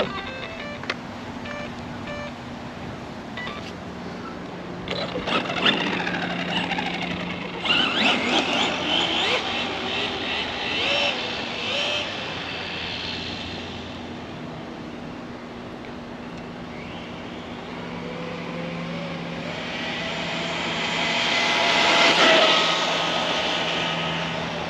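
An Arrma Gorgon RC car converted to a brushless motor runs on a 2S battery, its electric motor whine rising and falling in bursts with rattling passes, then swelling louder toward the end, heard at moderate distance.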